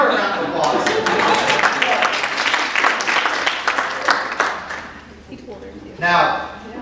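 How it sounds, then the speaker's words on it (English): An audience at a real estate team meeting bursts into applause, a dense wash of clapping that fades toward the end, with a voice talking over it and a short final flurry. "give her a round of applause"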